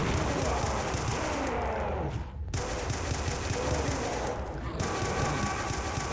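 Rapid weapon fire from the video game DOOM, dense bursts of shots rattling continuously with two brief silent gaps.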